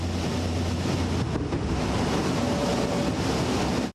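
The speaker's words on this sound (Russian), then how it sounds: "Еще несколько секунд и 10 тонн воды рухнут в очаг пожара" A Be-200 amphibious plane drops ten tons of water onto a wildfire near Lake Baikal, heard as a loud, sustained roaring rush with a low hum underneath that barely changes over several seconds.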